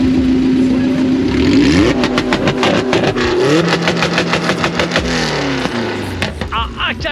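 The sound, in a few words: Honda Integra engine revving through open exhaust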